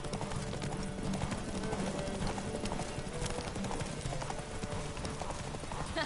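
A horse gallops in The Witcher 3, its hoofbeats loud, close and steady in a continuous clip-clop rhythm over busy game ambience throughout.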